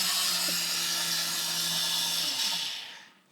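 A blender whirring steadily at high speed while making coquito with Dominican rum, loud and close with a bright buzzing whine, then winding down and stopping near the end.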